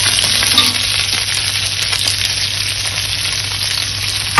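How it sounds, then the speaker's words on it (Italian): Garlic and porcini mushrooms sizzle in oil in a pan, a loud, steady, close frying hiss with no break and no voices. "Non appena l'aglio comincia a sfrigolare, butto dentro anche i funghi."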